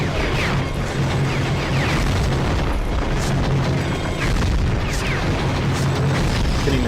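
Rocket explosions from the PS2 game Gungrave rumble in a dense, continuous wash of booms and mechanical clatter, loud and sustained with repeated bursts and no voices.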